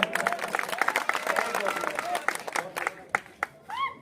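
Audience at a Hindi-Urdu poetry gathering (mushaira) in Nandurbar claps in a dense, lively burst with crowd murmur, fading into a few scattered claps near the end.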